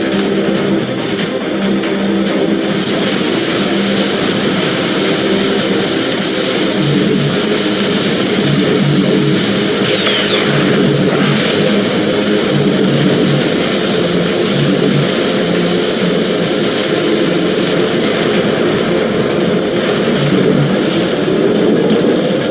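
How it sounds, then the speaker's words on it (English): Continuous loud roar of assault helicopter engines and rotors in the tower defense video game X-Morph: Defense, steady and dense throughout, with a brief whine rising in the middle. "Assault helicopters, one click from alien base."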